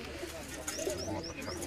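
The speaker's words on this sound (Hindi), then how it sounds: "इधर उठाओ जी, कबूतर उठाओ" Soft, low pigeon coos repeat several times, close by and fairly quiet, on a rooftop in Sialkot, over a murmuring background with faint voices.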